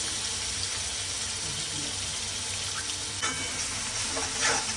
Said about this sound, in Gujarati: આપણે તેલ ગરમ કરવા મૂકી દીધું છે વઘારવા માટે હવે એમાં આપણે નાખીશું ડુંગળી અને ટામેટું પીસેલું